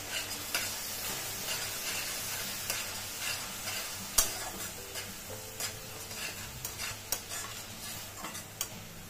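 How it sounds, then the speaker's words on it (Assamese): Steady sizzling of spice paste with red chilli powder frying in a pan, with scattered clicks and scrapes of a utensil stirring throughout. "মছলাখিনি আকৌ অলপ ভাজি লৈছোঁ"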